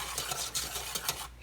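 Chocolate pie filling being stirred in a pot with a spoon over medium-high heat, giving close, continuous scraping and swishing strokes along the bottom and edges with a slight bubbling sizzle and no talking.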